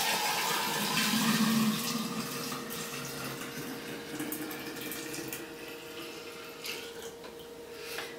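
Brewed tea being poured into a large wide-mouthed glass jar for kombucha, a steady close splashing pour that swells early and then continues more softly.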